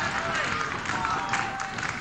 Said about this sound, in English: And the crowd loving it now.